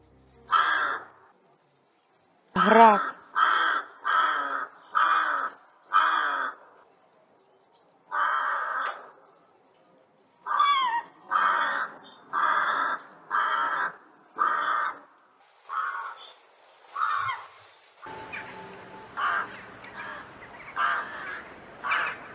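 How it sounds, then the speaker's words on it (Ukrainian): A series of harsh, raspy starling calls repeated in steady bursts, loud and close, with a denser chattering stretch toward the end. "А ось шпаківню вже облюбувала родина шпаків."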